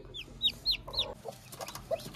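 An Aseel hen clucks several times close by in quick, uneven bursts, with faint rustling around it.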